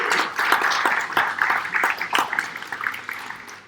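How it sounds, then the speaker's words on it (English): Audience applause at a public astronomy lecture, a brief burst of scattered clapping from a moderate crowd that thins out over a few seconds. "So let's give him an applause."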